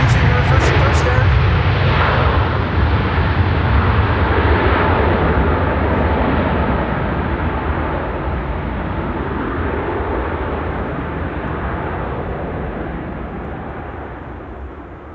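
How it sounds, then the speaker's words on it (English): Icelandair airliner arriving on the reverse approach at Amsterdam Schiphol in windy weather, a loud, close jet roar that slowly thins and fades as the aircraft moves away. "Icelandair using the reverse approach there"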